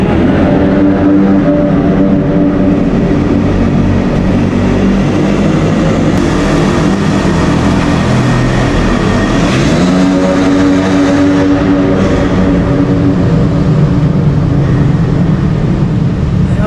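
Motorcycles ride through Kaybiang Tunnel with a loud, sustained engine drone. The pitch shifts and rises as bikes pass close by, then settles into a continuous rumble.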